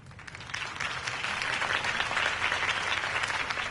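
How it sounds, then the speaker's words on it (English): A crowd applauds after a campaign speech in Batman: The Telltale Series. The clapping swells into a dense, sustained wash at moderate distance. "If only Mr. Wayne, my campaign's largest backer, could have heard that applause"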